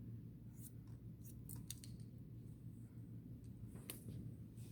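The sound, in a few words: scissors cutting hair around the head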